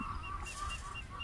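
A brief, quiet bird call from a fowl, a few soft clucking notes over a low background rumble.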